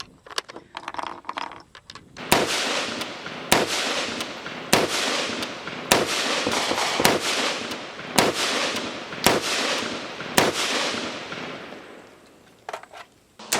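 A Springfield Armory Saint Victor AR-10 rifle in .308 fires at an outdoor range: about ten loud, sharp shots at a steady pace of roughly one per second, with a couple of fainter reports near the end.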